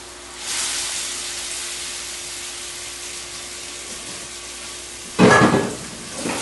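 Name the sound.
demi-glace sauce sizzling and reducing in a pan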